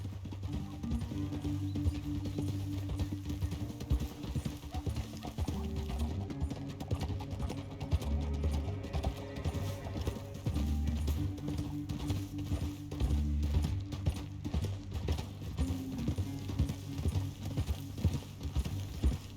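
Horse hooves clip-clop at a steady gallop in Red Dead Redemption 2, a continuous rhythmic pounding at moderate level layered over a sustained low musical score, with no talking.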